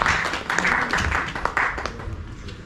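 Audience at a book launch applauding, a dense patter of many hands clapping at moderate distance, steady then gradually thinning out.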